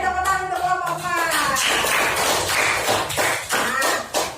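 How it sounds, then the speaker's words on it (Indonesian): Classroom applause for a student group after a presentation: dense clapping swells from about 1.5 seconds and continues steadily, preceded by a brief voice, loud and near. "Beri tepuk tangan untuk kelompok"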